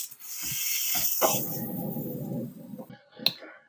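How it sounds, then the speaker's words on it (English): An espresso machine's steam wand is purged in a café setting, giving a loud, steady hiss of about two seconds that cuts off, with brief clicks around it. "I'm going to clean our steam wand."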